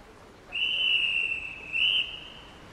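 A whistle signals swimmers at the start of a swim race, one long steady shrill blast that swells briefly louder near its end, fairly close and clear over quiet background.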